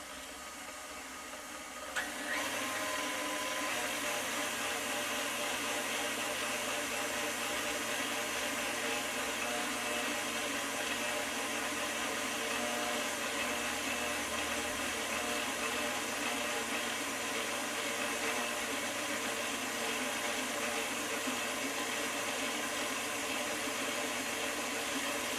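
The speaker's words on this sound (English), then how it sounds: "the mixer, do the kneading of the dough for about 8 minutes" Stand mixer kneads cinnamon swirl bread dough, its motor switching on after a couple of seconds into a loud, steady whirring hum that runs unbroken to the end, with no speech.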